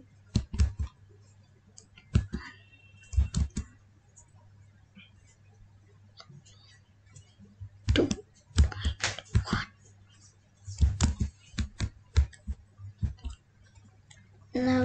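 Computer keyboard typing while entering Python NumPy code, irregular clusters of crisp clicking keystrokes separated by pauses, close and fairly quiet.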